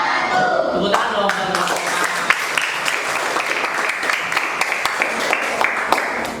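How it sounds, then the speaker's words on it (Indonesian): A classroom of students claps together after a group presentation, brisk, dense clapping that carries steadily throughout with faint voices mixed in. "Tepuk tangan dong."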